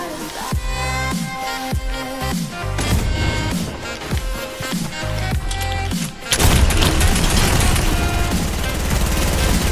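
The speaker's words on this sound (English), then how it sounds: "He had a shotgun." Shotgun fire in a video game: a dense, loud volley of close gunshots in quick succession, punctuated by heavy booms, with chaotic action noise filling the later part.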